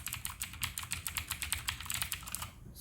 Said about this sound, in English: this was the unboxing of my keyboard as well as sound test